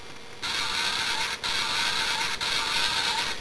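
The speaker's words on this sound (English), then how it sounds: "Inserting the Cyber Planet key pops this up and extends this part a little bit, and then you get this sound" Electronic whirring, creaking effect from a Transformers movie Jetstorm toy with the Cyber Planet key inserted, a steady loud buzz that starts after a short pause and carries on with two brief dropouts.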